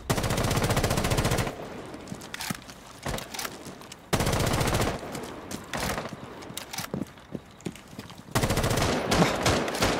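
R4C assault rifle firing in Rainbow Six Siege, loud sustained full-auto bursts broken by short pauses and a few single shots.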